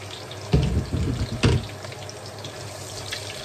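Chopped onion dropped into a pan of browned garlic, sizzling loudly in two bursts before settling into a steady low hiss of frying.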